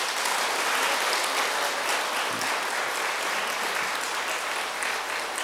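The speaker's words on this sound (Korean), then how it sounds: "박수 한번 보내주세요" Steady, dense applause from a large audience at a Korean political gathering, held for about five seconds with no break.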